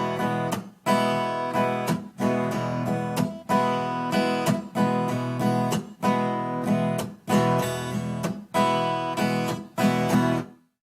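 A rock guitar strummed in a steady pattern, loud and close, with repeated chord strokes broken by brief choked gaps where the strings are deadened, then a final ringing stop.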